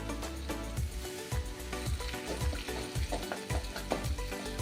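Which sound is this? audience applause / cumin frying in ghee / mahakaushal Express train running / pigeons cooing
cumin frying in ghee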